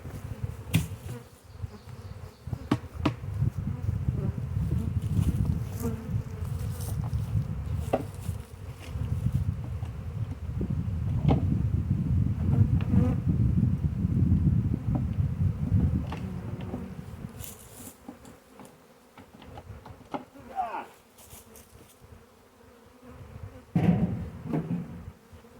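A honey bee swarm on a trap gives a dense, continuous buzzing that stays loud for most of the stretch, then thins out near the end, with scattered clicks and knocks.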